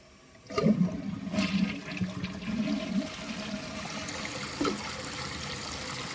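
A 2001 Gerber Aqua-Saver toilet tank refills through its fill valve with a sudden rush of water that settles into a steady hiss and trickle, close by and uninterrupted by talk.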